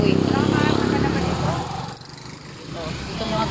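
Motorcycles and other vehicles pass along a one-way road shortcut on the way from school, a steady loud engine drone that dips and swells as they go by, with nearby voices underneath.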